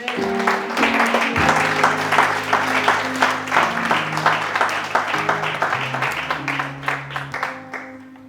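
A church congregation applauds in sustained, dense clapping that carries steadily throughout, with organ-like sustained tones beneath and no clear talk.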